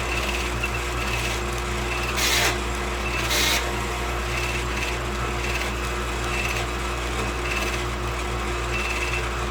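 A drill with a dull Forstner bit grinds into wood with a steady, loud mechanical drone. Two brief scraping bursts rise above the hum partway through, with no talking.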